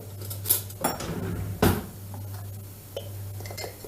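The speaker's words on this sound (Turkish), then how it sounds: "bir adet yumurtamı kırıyorum" An egg cracked into a bowl for a cauliflower dish, with a few distinct clinks and taps of shell and utensil against dishware, one louder knock in the middle, quiet background hum between, no voices.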